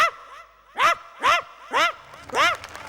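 A comedian on a Malayalam comedy stage imitates a rich household's dog with his voice, giving four evenly spaced, loud, gruff barks, each a rising-and-falling yelp close to the microphone.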